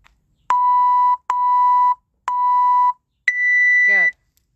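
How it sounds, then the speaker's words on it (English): A workout timer counts down with three identical mid-pitched electronic beeps, evenly spaced, then a fourth higher, longer tone signals the start, clear and loud against near silence. "You'll hear the beeps."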